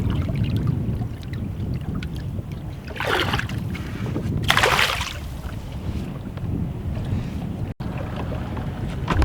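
A fishing boat cruises on a lake with a constant low engine drone and wind buffeting the microphone, plus a couple of brief louder rushes of water or wind midway.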